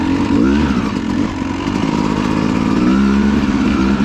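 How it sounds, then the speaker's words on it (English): A 250cc motorcycle engine, the 250X, revs up loud and close, climbing and falling in pitch through repeated throttle blips over a constant rough engine drone. "It's got long legs, over rev on this, on a 250 engine like this."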